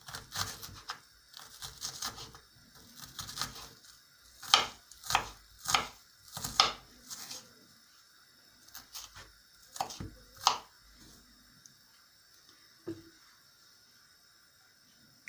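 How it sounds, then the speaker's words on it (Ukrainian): A knife chops an onion finely on a board in a home kitchen, a series of sharp, close taps in irregular bursts, some quick runs and isolated strikes, with no talking. "Наріжу цибульку."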